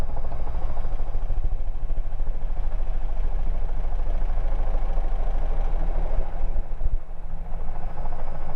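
A helicopter comes in to land with passengers aboard, its engine and rotor making a loud, continuous, rumbling clatter that fills the cabin, steady throughout with a slight dip near the end.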